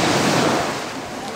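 Sea waves wash steadily onto Silvalde beach in Portugal, a broad, continuous roar of surf with wind buffeting the microphone, loud and close with no break.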